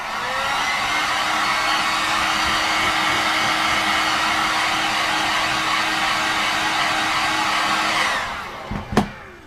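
Heat gun blowing onto an EVA foam armour piece for a Master Chief cosplay, a loud steady whooshing roar of hot air held for about eight seconds before cutting off with a couple of clunks.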